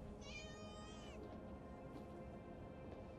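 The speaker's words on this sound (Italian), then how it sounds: "Sentito un gatto e non è il mio sound alert" A cat gives a single drawn-out meow near the start, thin and faint over a steady background murmur and hum.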